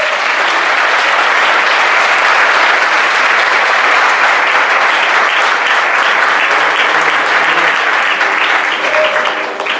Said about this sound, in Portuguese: Se você vai aplaudir, aplauda mesmo,